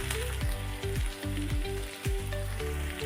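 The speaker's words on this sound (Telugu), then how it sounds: "ఉల్లిగడ్డలు పచ్చిమిర్చి వేగాయండి." Onions and green chillies frying in a pan for chicken curry, a steady close sizzle and crackle running throughout with no voices.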